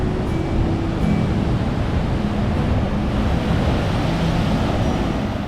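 Ocean surf at Bridgewater Bay rolls in as a steady, loud broadband roar that is close and continuous, with wind buffeting mixed in and no voices.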